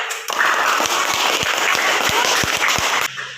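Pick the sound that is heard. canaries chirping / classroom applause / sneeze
classroom applause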